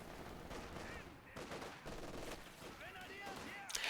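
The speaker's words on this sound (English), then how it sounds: "MG42 in a nice positioning there, catches 1 rifleman" MG42 machine gun fire in Company of Heroes 2, a rapid crackle of bursts mixed into a busy battlefield din, fairly quiet and steady, with a sharper burst near the end.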